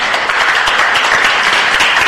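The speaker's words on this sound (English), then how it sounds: "Let's give them a big round of applause" Applause fills a city council meeting room, a steady wash of many hands clapping at even loudness for the full span, with no voices standing out.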